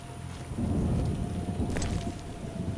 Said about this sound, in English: Guys calling it a day just because of a little rain.